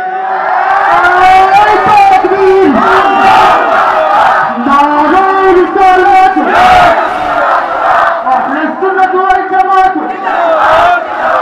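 A large crowd at an outdoor Bangladeshi waz religious gathering chants the takbir in loud unison, sustained voices swelling and repeating for several seconds, close and powerful.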